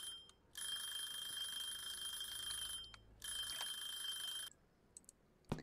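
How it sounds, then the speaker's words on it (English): A kitchen timer alarm in the Cooking Simulator video game rings in two loud, steady electronic bursts of a few seconds each, separated by a short pause, with a few faint clicks after. "The timer is the most annoying sound in the world, but I'm pretty sure that's the point."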